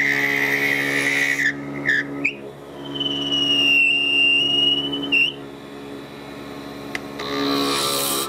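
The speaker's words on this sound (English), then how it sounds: "we're using the gouge because of the size of the piece" A woodturning gouge cuts a spinning piece on a lathe, giving a steady motor hum with a sharp, whistling high squeal that comes and goes as the tool bites, close and fairly loud.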